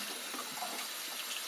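Water runs steadily from a sink tap as a strainer spoon is rinsed after hand-washing dishes. The soft, continuous hiss and splash is close and fairly quiet, with no talk.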